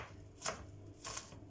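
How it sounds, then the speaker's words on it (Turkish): A knife chops onion quickly on a board, two soft crisp strokes about half a second apart, faint and with no voices. "böyle hızlı doğramaya çalışmamın nedeni arkadaşlar, gösteriş yapmak için değil, gözüm yanmasın diye."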